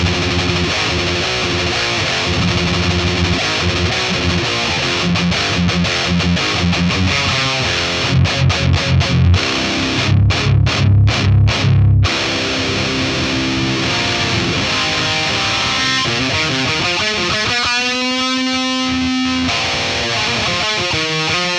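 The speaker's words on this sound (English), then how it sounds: "It's a nice device with a limited distortion spectrum" Loud, heavily distorted electric guitar through a Boss Katana-100 MK2 combo amp, playing riffs and chugging palm-muted chords, with pauses and a sustained wavering note near the end.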